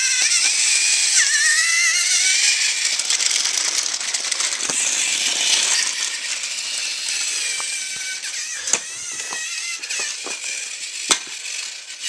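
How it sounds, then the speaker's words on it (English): A TOMY Thomas toy Post Train runs along its plastic track, a steady close whirring rattle of motor and wheels with faint squeaks and a few sharp clicks near the end. "This is the sound of the post train."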